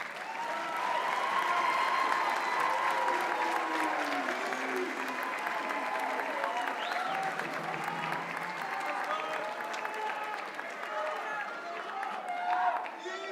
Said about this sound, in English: Find your parents and give them a round of applause.